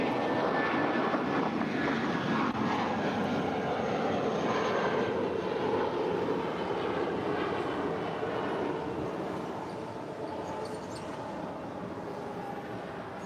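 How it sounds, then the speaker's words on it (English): An American Airlines A320 jet takes off at LAX, a loud continuous roar of engines that slowly fades as the aircraft moves away. "that was American Airlines Flight 1416 heading to Phoenix, Arizona. It was an A320"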